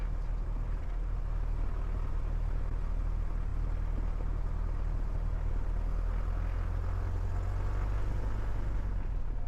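A small airplane taxis at an airport, its engine a steady, close, droning rumble with a deep low hum that holds evenly throughout, with no talking.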